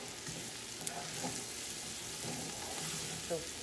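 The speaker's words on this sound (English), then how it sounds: "Now I'm going to add 1/4 of a cup of flour in here slowly. So I'm going to make my roux, my soup base." A steady, soft sizzle as flour is stirred into hot fat to make a roux in a soup pot, with faint scraping from the stirring and no voice over it.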